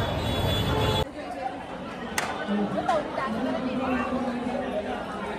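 Steady crowd chatter of devotees queuing at the Chintamani Ganpati pandal, a dense murmur of many voices with a few brief clanks and whistles, after an initial louder burst of noise.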